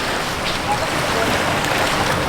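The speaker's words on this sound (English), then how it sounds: "So this is the sand and the beach, our little beach haven near our house." Surf washes onto a sandy beach near a home in a steady, broad hiss. Wind buffets the microphone and the waves show no clear individual breaks.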